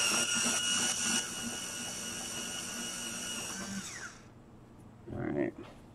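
A pencil is sharpened in a sharpener during an eye-painting session, giving a steady, close grinding whir for about four seconds that then stops, followed by a brief voice.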